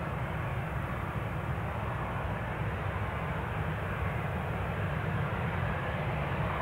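A jet airliner roars steadily at Newcastle International Airport, a loud, constant rumble held throughout with no talk over it.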